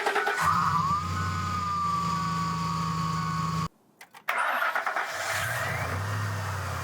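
A worn original Ford power steering pump whines loudly on a running 2004 F150 with a 4.6L or 5.4L engine, a steady high whine over the engine that cuts out briefly and then resumes, with no talk.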